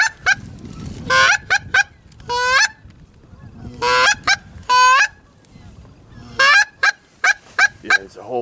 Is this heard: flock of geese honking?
yes